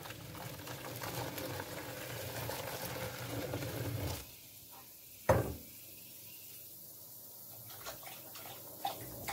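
Steady fizzing hiss of boiling water poured onto a cleaning powder, dropping away abruptly, followed by a sharp clunk and a quieter lingering fizz.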